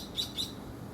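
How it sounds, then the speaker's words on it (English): A bird in a garden gives two quick, high, thin chirps in close succession, clear over a soft outdoor background with no talking. "that chirp is new. It's a new chirp."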